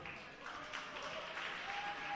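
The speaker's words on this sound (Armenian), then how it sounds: "Ավելի բարձր ծափահարություններով Դալիթա" Audience applause at a children's singing contest stage show, a steady, moderately distant wash of clapping throughout, with a faint sustained tone running beneath it.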